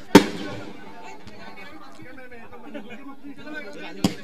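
Fireworks burst at an outdoor prize ceremony: a loud sharp bang at the start and another near the end, with crowd chatter and murmuring voices filling the gap between them.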